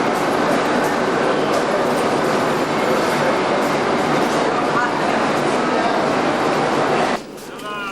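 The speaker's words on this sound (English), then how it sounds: "Our train for Luxor will be leaving in a few minutes, and we've got first class accommodation in this particular coach" Steady, loud rumbling noise inside a first-class coach of a train to Luxor, Egypt. The rumble continues for several seconds, then drops away sharply near the end.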